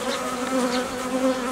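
Honeybees humming steadily inside a hive during a colony-merging job, a close, continuous drone with slight swells and no voices.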